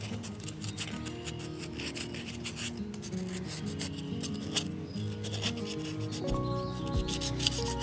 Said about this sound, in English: I'm going to clean this up with a little bit of sandpaper